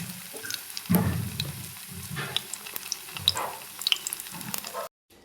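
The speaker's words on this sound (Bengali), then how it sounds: "তো এই দেখো বেগুনিটা ভেজে নিচ্ছি।" Battered eggplant fritters (beguni) deep-frying in hot oil give a steady crackling sizzle, with a brief louder burst near the start and quiet bubbling throughout before a sudden cut-off at the end.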